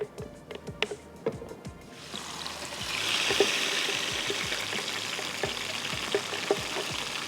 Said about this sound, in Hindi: हस्ब ज़रूरत आपने ऐड कर देना है पानी, ताकि आप इसकी मिक्सिंग जो है वो बहुत अच्छे से कर लें।